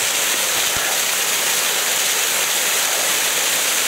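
A large waterfall on the Yellow Bamboo Falls hike in Japan roars as a steady, dense rush of falling water, loud and continuous, with no voices over it.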